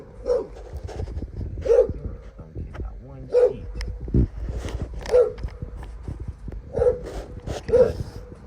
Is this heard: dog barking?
yes